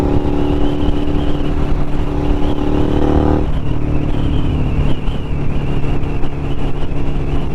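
A Suzuki SV650 motorcycle rides through New York City at night, its engine droning steadily up close with a pitch change partway through, wind and road noise running throughout.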